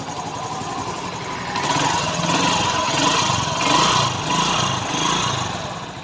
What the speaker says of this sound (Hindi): ये देखें आप इंजन की साउंड सुने।